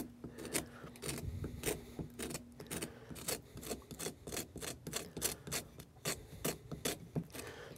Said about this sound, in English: Take your knife and scrape the middle of it a little bit.